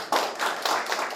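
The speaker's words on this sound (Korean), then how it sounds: "큰 박수 부탁드립니다." Brief applause from a small audience at a Seoul city policy forum, a few pairs of hands clapping in quick, close, uneven bursts.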